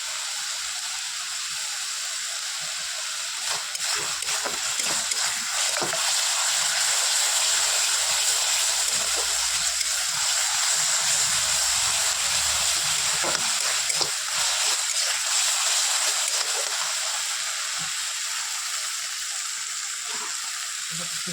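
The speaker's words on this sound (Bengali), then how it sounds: "শুকনো ডাঁটা আর আলু কেটে রেখেছিলাম, এখানে এবার দিয়ে দিলাম।" Dried vegetable stalks and cut potatoes land in hot spiced oil for a Bengali katla fish curry, sizzling in a steady, moderately loud fry with some stirring and scraping, while a voice talks faintly at times.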